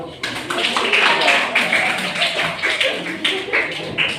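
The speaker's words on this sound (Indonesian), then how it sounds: "Sudah boleh tepuk tangan." A small group of children in a classroom claps together, brisk and close, with children's voices chattering over the clapping.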